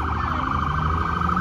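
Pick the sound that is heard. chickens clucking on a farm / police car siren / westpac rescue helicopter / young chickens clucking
police car siren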